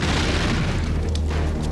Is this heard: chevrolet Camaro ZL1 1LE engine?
no